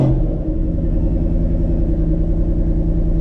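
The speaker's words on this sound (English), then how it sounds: "It says turn the key off for 10 seconds and start the vehicle." A Ford Mustang GT500 with a new tune runs with a deep, loud, steady engine rumble at idle, close by and with no voices.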